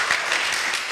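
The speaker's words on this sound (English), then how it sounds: "Please give her a round of applause." Applause from an audience at a West Indies Cricket Board kiddy cricket camp event, a steady dense wash of clapping filling a brief moment without pause.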